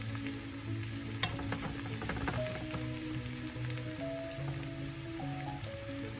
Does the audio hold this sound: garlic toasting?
yes